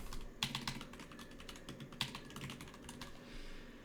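Quick, uneven keystrokes clatter on a computer keyboard, faint and close, with a few sharper key hits scattered among the softer taps and no speech.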